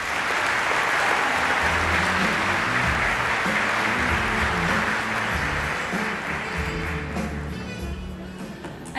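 A crowd at a Congressional Black Caucus chair installation ceremony gives sustained applause for the House Democratic leader, a thick, even roar of clapping that holds for several seconds and then thins slightly toward the end.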